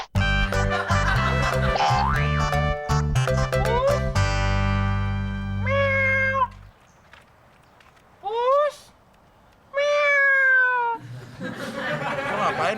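After bursts of cartoonish music and boings, a voice imitates a cat with several drawn-out, rising-and-falling meows separated by short silences.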